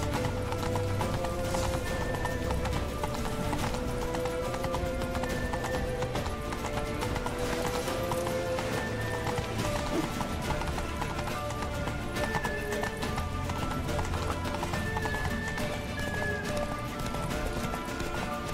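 A horse gallops at speed in The Witcher 3 video game, with rapid rhythmic hoofbeats running throughout over a dense, busy background.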